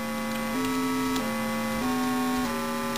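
A steady electronic square-wave tone from a 6502 computer with an AY-3-8912 sound chip, stepping through several distinct pitches in turn over a faint mains hum, with no voices.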